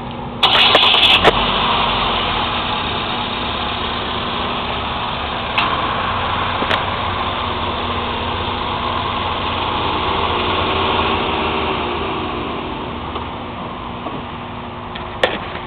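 A 2011 GMC Terrain SLT engine cranks briefly and catches, then settles into a steady, smooth idle that continues near and moderately loud, with a few faint clicks and taps over the running engine.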